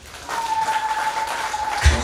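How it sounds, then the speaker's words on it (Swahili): A congregation claps hands during a Sunday church service, a dense, steady patter of many hands at moderate loudness over a sustained high-pitched tone, ending in a louder thump. "Piga makofi kwa ajili yako."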